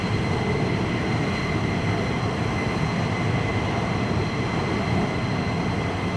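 Jet aircraft taxiing at RAF Lakenheath, a steady broadband engine roar with a high whine, constant and fairly loud throughout, no voices.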